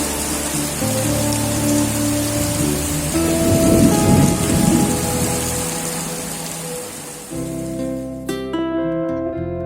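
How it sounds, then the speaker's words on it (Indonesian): Heavy rain pours steadily while deep thunder rumbles and rolls through, loud and close, easing toward the end. "ternyata hujan tak kunjung reda"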